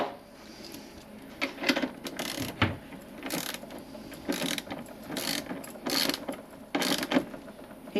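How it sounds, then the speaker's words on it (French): Ratchet wrench tightening a bolt on a terminal of a 24V 100Ah lithium battery, a series of short, sharp clicking bursts repeating in irregular strokes, close and fairly loud with no talk. "Voilà, le petit tour de clé qui va bien."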